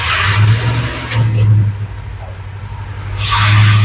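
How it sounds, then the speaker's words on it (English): A badly running modified car engine revs hard during a burnout, loud roaring bursts with a dip in the middle and a second surge at the end. "You reckon I can do a burnout while it's running so badly?"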